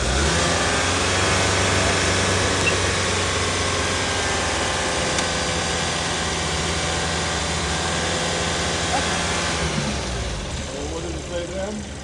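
A car engine held at raised revs for an alternator charging test, a steady loud drone that carries on evenly before easing down near the end.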